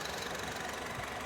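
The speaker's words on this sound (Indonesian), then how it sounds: "Dan ini suara mesinnya" Engine of a 2016 Honda Mobilio RS with 1500 cc i-VTEC and manual transmission idles smoothly, a steady faint hum with even texture, no voices.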